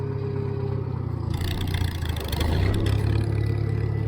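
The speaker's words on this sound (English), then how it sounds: "I love the sound of that engine." A Farmall 350 tractor engine runs steadily nearby with a low, continuous rumble that swells slightly midway, as if revving a little, with no one talking.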